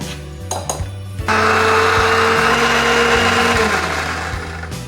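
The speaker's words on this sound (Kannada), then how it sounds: "ಅದು ಭೀ ಹಂಗೆ ರುಬ್ಕೊಂಡು ತೊಗೊಂಡ್ರಿ ಮಿಕ್ಸರ್ದಾಗ ಹಾಕ್ಕೊಂಡು" An electric mixer grinder churns cream into butter for homemade ghee: a few clunks and clicks, then a loud, steady, high-pitched whir that runs near and unbroken to the end.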